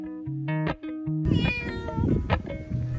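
Kittens shut in a pet carrier during a car ride meow over and over, loud and close, with a run of short mews followed by longer, wailing cries.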